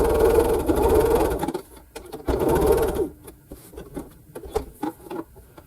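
A sewing machine stitching quilt pieces, running in two loud, steady bursts of rapid mechanical whirring, then a stretch of scattered clicks, taps and handling noises.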